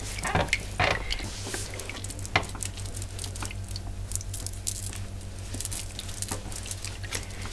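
Soap is lathered over a bare foot with water, giving close, soft wet squishing and slippery rubbing with scattered light smacks and drips, continuous and intimate with no talking.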